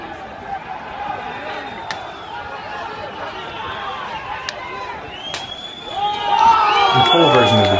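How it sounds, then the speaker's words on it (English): A crowd gathered outside a burning building in Odessa cheers and shouts, a continuous mass of voices with scattered sharp bangs, swelling louder near the end. "You can hear the crowd cheering as they set the building ablaze."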